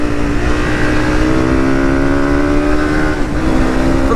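A KTM 500 and a Honda CRF300 dirt bike race along a track, engines droning steadily and loud for several seconds with a slight shift in pitch near the end, with no talking.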